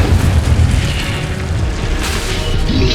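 A fire spell cast in the Hogwarts Legacy video game during a fight with brutes bursts out in a loud, dense boom with a roaring, explosive rush that holds steady for several seconds, mixed with combat noise.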